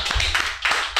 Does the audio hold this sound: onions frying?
no